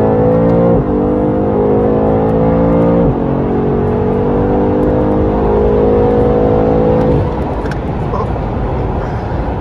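A BMW M8 accelerates hard from 60 to 130 on cold tires, its engine note climbing steadily and loudly through two upshifts before easing off near the end.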